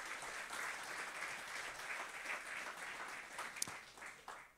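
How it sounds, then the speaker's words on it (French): A congregation applauds the worship team at a French-speaking church service, a steady wash of many hands clapping at moderate distance, quite soft overall, holding evenly for several seconds with a couple of sharper claps near the end. "Si on peut aussi applaudir l'équipe louange"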